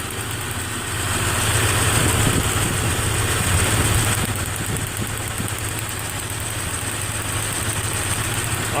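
A Nissan 3.3 engine idles steadily with a faint uneven stumble from a misfire on cylinder six caused by a bad injector, a continuous close low rumble with a mechanical whine above it and no talk.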